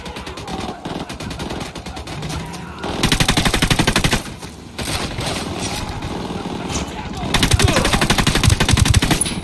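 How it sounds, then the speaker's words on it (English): Rapid automatic gunfire in the video game Ghost Recon Wildlands comes in loud bursts of dense rattling shots, separated by quieter stretches of background game noise. "Opening fire."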